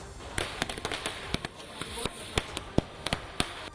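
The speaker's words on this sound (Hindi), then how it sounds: "उन्होंने पटाखे जलाकर खुशी का इजहार किया।" Firecrackers set off by a crowd celebrating outside a house pop in a quick irregular string of sharp cracks, some louder and nearer than others, over a dense bed of crowd noise and smaller bangs.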